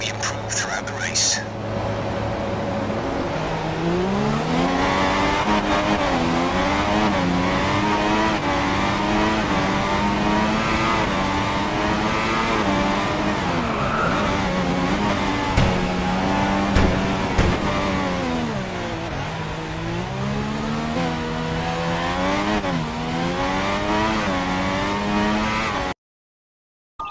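F1 race cars in the F1 2016 game race at Silverstone, their engines loud and close, rising and falling in pitch through gear changes, while a voice speaks over the racing.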